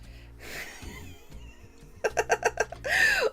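A pet cat gives a short series of loud, close meows and cries in a quiet home, a rhythmic burst of calls ending in a longer wail.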